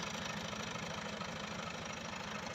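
A Ghazi tractor strains with a low, throbbing engine beat while stuck in a ditch on dry ground, its rhythmic pulsing steady and close throughout, with no voices.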